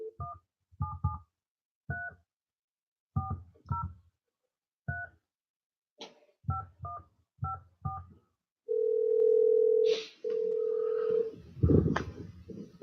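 Touch-tone DTMF beeps dialed in quick bursts on a phone line while calling a radio guest, followed by two long steady ringback tones and a brief clatter at the end; no talking.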